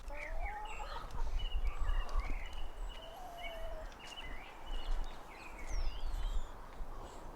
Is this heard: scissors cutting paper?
no